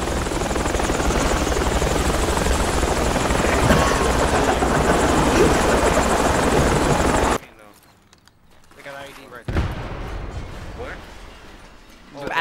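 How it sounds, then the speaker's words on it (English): Helicopter in the military video game Project Reality, a loud sustained rotor roar with gunfire mixed in, which cuts off abruptly before quieter game sounds return. "All right, there's a chopper."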